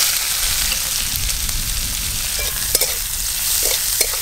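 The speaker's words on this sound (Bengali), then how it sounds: "হিং দেওয়ার পরে আমি পেঁয়াজ কুচি দিয়ে দেবো।" Chopped onion is frying with asafoetida in hot oil for aloo chop, a loud close sizzle with stirring scrapes and occasional sharper clinks of the spatula.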